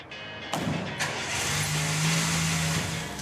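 A Porsche 911 engine fires up and accelerates away, with a sharp onset and a strong sustained roar that climbs in pitch as it pulls.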